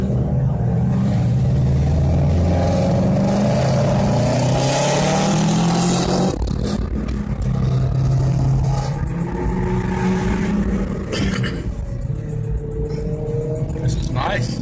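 A Ford Mustang at a car meet revs its engine with a heavy whistle, loud and close, rising and falling under continuous talk from people nearby.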